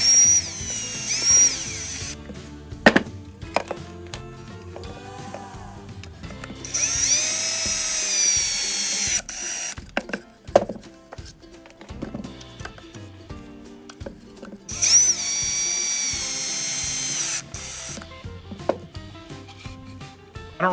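A power drill drives screws into a boat cup holder in three high-pitched whirring runs, separated by clicks, knocks and handling noises of the tool and workpiece.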